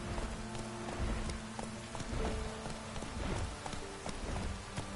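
Roach the horse gallops in The Witcher 3, a steady rapid clip-clop of hooves over continuous ambient game noise, moderately close and unbroken for the whole stretch.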